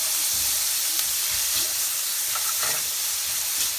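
Onions and garlic in butter hiss and sizzle loudly and evenly in a frying pan close by, with light stirring noises over the constant frying and no talking.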